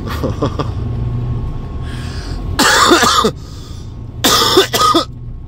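A person coughs in a few harsh, close bursts, a double cough near the end, over a low rumbling engine-like background.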